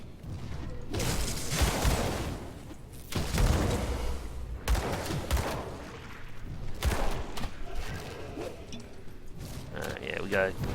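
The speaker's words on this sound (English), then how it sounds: "Go mortar, go." Mortar and gunslinger weapon fire in the action role-playing game Grim Dawn, a run of booming blasts and whooshing impacts layered over a steady battle din while someone talks throughout.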